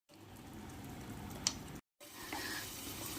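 Soft, steady bubbling and sizzling of prawn ghee roast with turmeric simmering in a pan, with a brief sharp clink midway and a short break in the sound.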